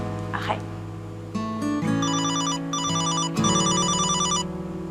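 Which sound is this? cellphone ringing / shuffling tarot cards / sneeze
cellphone ringing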